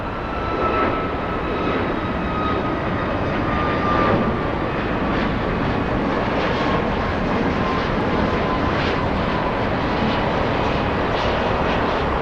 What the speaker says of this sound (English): We'll go for the United 737 flying to San Diego, California.